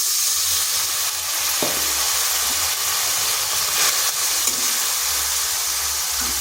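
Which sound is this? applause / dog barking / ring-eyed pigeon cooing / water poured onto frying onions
water poured onto frying onions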